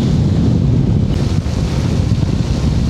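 Loud, steady rush of wind and rain buffeting the microphone at the RUET bridge in Rajshahi, a dense continuous roar with no voices.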